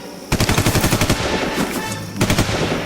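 Gunfire sound effect from a radio drama cave shootout: rapid machine-gun bursts, loud and close, one long rattling volley followed by a brief pause and a second burst.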